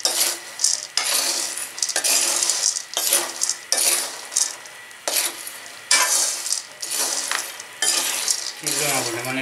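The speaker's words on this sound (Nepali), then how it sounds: "यो भुट्दाखेरि हाई फ्लेममा भुट्ने र त्यही रेसियोमा भुट्ने" Chickpeas being dry-roasted over high flame in a pan, stirred steadily with a metal spoon; a loud, continuous rattling scrape in repeated strokes, with dry peas clattering against the metal.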